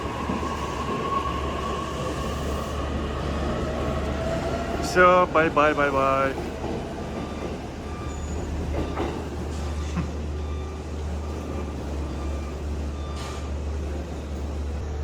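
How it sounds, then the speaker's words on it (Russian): E259 series Narita Express train accelerating away from a station platform, a steady low rumble and rising electric whine heard nearby, with a brief voice and a short burst of beeping tones partway through. "Так он быстро разгоняется, уезжает, вообще шикарный поезд."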